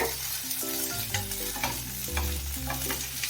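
Ginger garlic paste is sautéed in a pan for chicken macaroni pasta, a dense close sizzle with continuous stirring and scraping and no voices.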